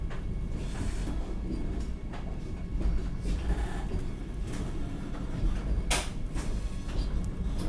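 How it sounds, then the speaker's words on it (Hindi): Vande Bharat AC chair car express from Gorakhpur to Prayagraj running just after leaving Raebareli, heard inside the coach as a continuous rumble with scattered knocks and clatters, no talk. "रायबरेली से ट्रेन जैसे निकली है"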